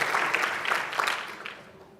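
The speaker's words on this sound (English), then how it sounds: "Give him a big round of applause" A crowd at a summit keynote claps steadily in dense, bright applause that gradually tapers off toward the end.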